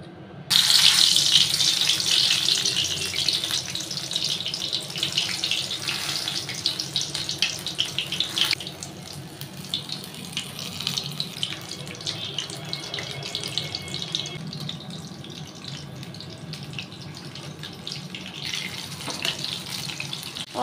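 Stuffed brinjal frying in hot mustard oil in a kadhai on a gas stove, a steady close hiss and sizzle that keeps going throughout and eases slightly partway through.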